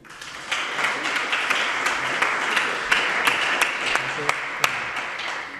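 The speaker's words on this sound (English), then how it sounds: "applause for our panel" Steady applause from a crowd, dense clapping at a consistent level throughout with a few sharper claps standing out.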